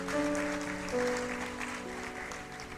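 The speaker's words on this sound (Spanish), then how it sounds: "¿Le puedes dar un aplauso al Rey de Reyes y Señor de Señores?" Congregation applauding during a church sermon, a steady wash of clapping under sustained organ or keyboard tones, with no speech over it.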